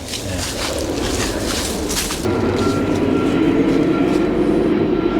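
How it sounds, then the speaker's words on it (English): A heavy freight train rumbles past close by, a loud continuous roar of wheels and engine that shifts partway through and keeps going. "Big freight train."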